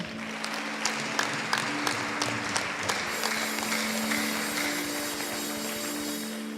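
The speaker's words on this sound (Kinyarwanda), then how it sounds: "Komera Imana amashyi" A church congregation claps together in a full, continuous round of applause, with sharper individual claps standing out early on and a steady tonal hum sustained underneath.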